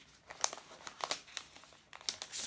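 Plastic-like bag crinkling as it is lifted out of a 2019 MacBook Air box, a string of close, light rustling bursts with no one talking.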